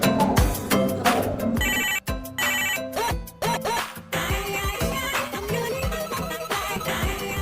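A mobile phone rings with an incoming call, its musical ringtone playing loud and close as a busy, repeating melodic pattern with short pauses, heard alone without voices.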